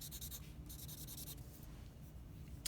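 Charcoal rubbed and pushed across drawing paper, a soft dry scratching in a few short bursts with pauses, quiet and close, no voices.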